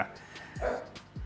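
A couple of short dog barks and yips at moderate distance over quiet background.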